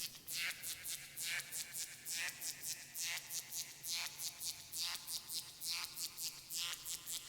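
An Arturia MicroFreak synth using a Noise Engineering oscillator plays a clicky, noisy patch with reverb and auto pan, giving quiet rhythmic bursts of hissing clicks that repeat in a steady pulsing pattern over a low background.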